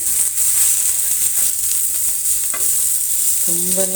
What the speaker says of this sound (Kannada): ಚೆನ್ನಾಗಿ ಫ್ರೈ ಆಗ್ತಾ ಬಂತು